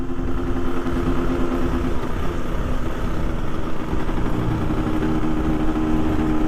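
A motorcycle rides along a road in Bali on a day touring trip, its engine droning steadily and loudly close by, with continuous rumble and wind noise throughout.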